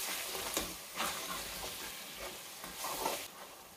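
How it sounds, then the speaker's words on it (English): Seasoning is stirred in a frying pot, giving a quiet, continuous sizzle with a few gentle swishing scrapes of the spoon at irregular intervals. "I'm going to stir on this"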